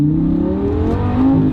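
A stage 1 tuned Lamborghini Gallardo LP560 accelerates on the road, its engine loud and close with a steadily rising, full-throated drone and no speech.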